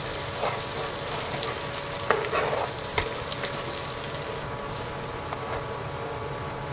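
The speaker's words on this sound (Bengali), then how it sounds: "রসুনগুলো ভাজা হয়ে গেছে।" Garlic frying in a pan for butter garlic chicken, a steady low sizzle with a few sharp utensil clicks and scrapes, heard close up without any talk.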